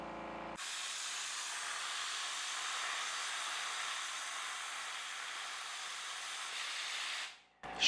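A diode laser cuts metal with an oxygen assist, giving a steady, loud, broadband hiss like rushing gas that holds unbroken for about seven seconds and then cuts off abruptly.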